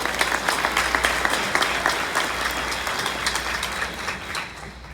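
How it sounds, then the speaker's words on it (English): An audience at an award gala gives a full round of applause, thick continuous clapping that gradually thins and fades toward the end. "Can we get another round of applause?"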